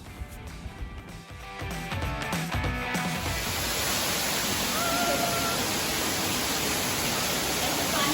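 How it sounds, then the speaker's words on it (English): A waterfall at the Singapore Botanic Gardens rushes as a steady, broad roar that swells in after a few seconds of mixed footsteps and background clatter, then holds loud and unbroken. "Wow, look, there's also a waterfall over here."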